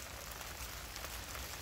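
Steady, soft rain falls on a freshly sown carrot field in autumn, a dense even patter and hiss with no distinct drops standing out and no voices.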